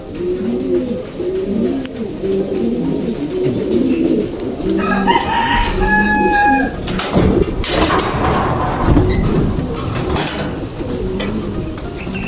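Racing pigeons in a loft coo repeatedly in low, rolling throaty calls, several birds overlapping nearby, with a brief higher tonal sound and some rustling midway.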